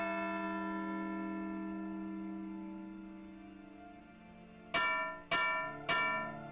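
A bell rings in the Edna bricht aus video game, a long ringing tone decaying slowly before three sharp, evenly spaced chimes strike loudly near the end.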